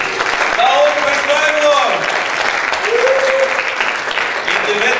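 Loud applause from a church congregation during a Spanish-language sermon, a dense wash of clapping with voices cheering and calling out over it throughout.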